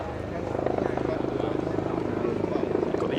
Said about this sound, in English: the Overwatch helicopter checking over the route.